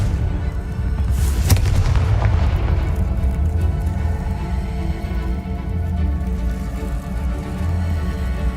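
A Confringo fire spell explodes in Hogwarts Legacy, one sharp crackling burst early on that decays into a dense, rumbling underground ambience with a steady low drone.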